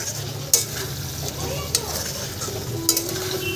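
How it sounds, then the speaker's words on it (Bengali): Potatoes sautéed in a pan for a small hilsa fish curry, a steady sizzle with three sharp spatula clacks against the pan, close and fairly loud. "আমি এখন আলুগুলোকে কষিয়ে নেব।"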